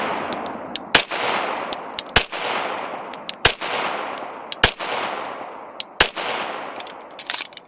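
A pistol fitted with a Legion Precision compensator fires repeatedly at targets: six or seven loud, sharp shots spaced about a second apart, each followed by a short ringing decay, with brief metallic clinks between them and no talking.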